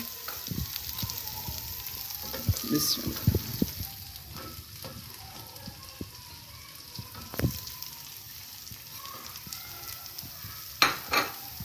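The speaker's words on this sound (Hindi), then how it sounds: "और अब मैं इसमें डालूँगी ये जो 2 अदद प्याज लिए थे इन्हें डालेंगे।" Onions tossed into browned mutton keema crackle and sizzle in the pan, with uneven scrapes and clatters of stirring and a couple of sharp knocks, close and without speech.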